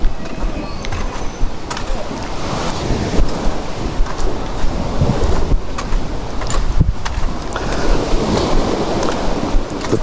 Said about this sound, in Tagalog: Ito yung dagat, ang lapit na sa bahay, ang lapit na sa mga kabahayan.